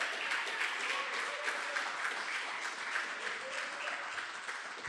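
A church congregation claps strongly for God during a service, a dense, continuous wash of applause at moderate distance that holds steady throughout.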